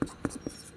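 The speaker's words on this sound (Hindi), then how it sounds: "यहाँ पे लिखेंगे विचलित" A few quick scratchy writing strokes, three or four short marks in under a second, made close by while teaching refraction of light in a Class 10 physics lesson.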